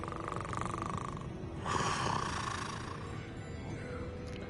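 Sleeping character snoring in Hogwarts Legacy, a slow, rough, rasping breath that swells in the middle, heard over steady game ambience with no talk.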